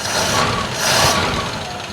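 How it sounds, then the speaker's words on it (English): A 1947 Ford engine idling with a Holley 94 carburetor, its idle turned up slightly: a loud, close, steady rumbling drone with a brief swell in the middle. "let's turn the idle up a little bit"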